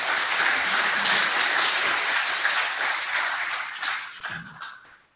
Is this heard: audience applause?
yes